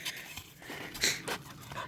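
A dog pants quickly and close by, breathing in short rhythmic huffs with a faint whimper, with no talking over it.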